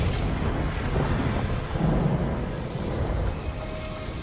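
A deep, rolling rumble of thunder from a lightning strike in a movie scene, steady and loud with rain-like hiss throughout and no talking.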